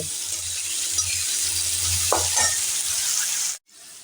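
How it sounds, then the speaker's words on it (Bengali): Potatoes fry on a high flame in a pan with tempered spices, a loud, close sizzle with a brief stirring scrape midway, cutting off abruptly near the end. "এই আলুটা আমি হাই ফ্লেম করে"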